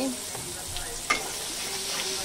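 Onion and garlic with a little turmeric frying in a wok, giving a steady close sizzle with a faint clink or scrape of a utensil now and then, no voices.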